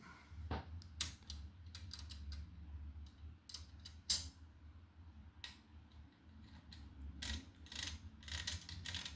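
A Meccano crane's gears and ratchet are turned by a hand crank, giving quiet, irregular mechanical clicks and ticks over a faint low hum.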